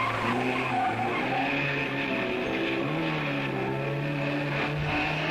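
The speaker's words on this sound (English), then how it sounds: "And here's his main rival, Constan, in an Alpha" Alfa Romeo race car in a racing video game at Watkins Glen, engine note rising and falling through gear changes with tyre squeal, loud and continuous.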